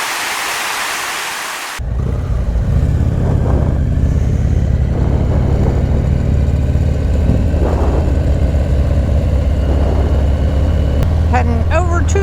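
A motorcycle engine idles loud and close with a deep, steady rumble that runs from about two seconds to the end, following a burst of hissing noise at the start, with a brief higher mechanical clatter near the close.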